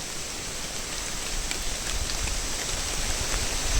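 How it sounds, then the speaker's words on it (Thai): Heavy rain and strong wind roar together in a dense, steady wash, the wind shaking rainwater from trees so drops patter down loudly, with gusts swelling slightly toward the end. "พี่ได้ยินใช่ไหมเสียงลมคือแรง"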